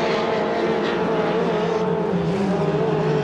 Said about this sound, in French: Est-ce que Rapp sera contrôlé son dernier virage avant d'atteindre le drapeau à damier